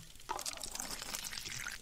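Water poured into a battery in the video game The Last Dream, a bright splashing pour that runs steadily for nearly two seconds after a brief quiet start, with no talk over it.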